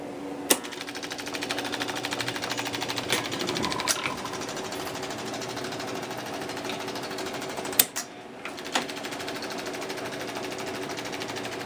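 The freshly oiled clutch gear mechanism of a 1961 Seeburg AY100U jukebox runs with a steady, close mechanical whir and fast rhythmic ticking, punctuated by a few sharp clicks and clunks.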